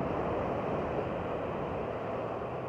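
Steady, full-bodied wash of ocean waves on the California coast, rolling continuously and fairly close, with no voices or other distinct sounds over it.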